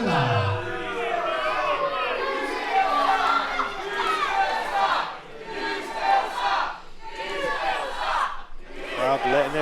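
A pro wrestling crowd at a Future Pro Wrestling show shouts and jeers at wrestler David Francisco in loud surging waves of chanting voices, close and sustained.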